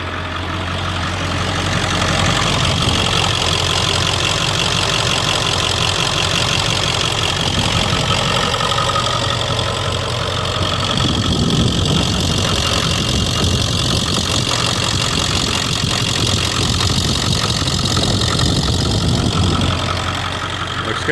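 A 1999–2003 Ford F-series truck's 7.3 Powerstroke diesel idles loud and close with a steady, rough clatter after starting, the tone shifting slightly partway through.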